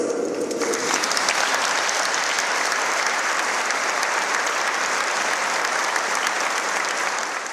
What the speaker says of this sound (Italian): Lacrime e tanti applausi per un'uscita di scena avvenuta troppo presto.